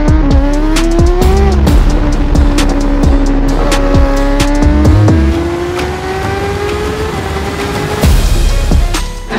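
A race car at speed on the Hockenheimring, driven on tyres that have gone too cold. The engine note is loud and close and rises and falls, with tyre squeal and sharp transient bangs throughout and no voices.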